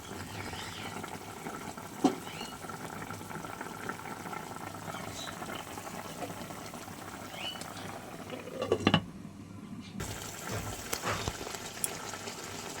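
A covered pot of ridge gourd and rohu fish curry simmers with a soft, steady bubbling hiss, faint and close, broken by a brief clatter near the lid.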